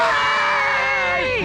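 Crowd letting out a loud, sustained scream to celebrate becoming debt-free, a dense roar of cheering voices filling the whole moment without pause.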